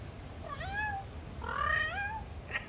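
A neighborhood cat meows twice, each call rising then falling in pitch, fairly close and moderately loud over faint background noise.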